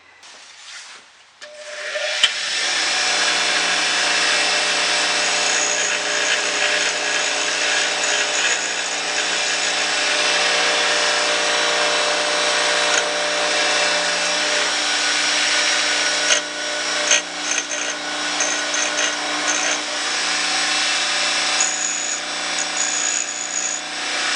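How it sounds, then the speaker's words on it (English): Bench grinder grinding a part from a non-running snowblower, a loud continuous abrasive whine that spins up after a brief quiet start and holds steady for over twenty seconds, with small rough fluctuations as the metal is pressed. "I'm not going to take much off here on the grinder, and we'll go over there right now and do it"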